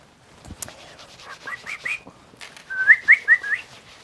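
A person whistles a short tune at close range, a run of rising notes, a brief pause, then another quick phrase of bright chirpy notes, with faint handling noises at the start.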